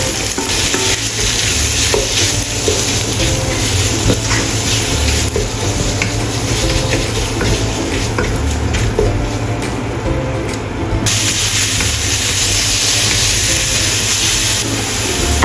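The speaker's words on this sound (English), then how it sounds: "Stir-fry minced meat." Minced meat and chopped garlic stir-fried in a wok for French bean fried rice, a loud, steady sizzle with constant scraping and tossing clatter running throughout, no voices.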